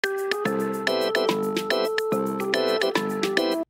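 Classic iPhone ringtone melody chopped and remixed into a hip-hop beat, bright chiming notes repeating in a steady rhythm over punchy drums with sidechain pumping, loud and continuous with no voices.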